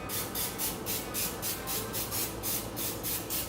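Rapid repeated bursts of non-stick cooking spray hiss in an even rhythm into a mold, about a dozen short sprays close up.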